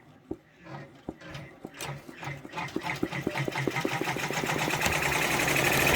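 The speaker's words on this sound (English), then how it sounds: "that looks like it caught just fine, so we'll just let it go ahead and stitch." An embroidery sewing machine stitches freestanding lace, starting with a few slow separate needle thumps that quicken into a fast, even mechanical chatter growing louder toward the end, no voices.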